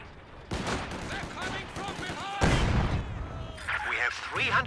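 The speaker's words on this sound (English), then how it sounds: "Oh, big heavy mortar shell." A heavy mortar shell explodes in Company of Heroes 2, a loud boomy blast mid-clip amid ongoing battle noise and scattered gunfire, with a commentator talking over much of it.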